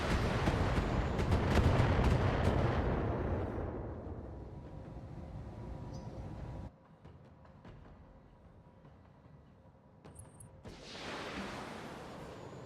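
Heavy weapon fire and explosions in the Battletech video game, a loud rumbling barrage that fades, drops to a quiet hum, then swells again with another burst near the end.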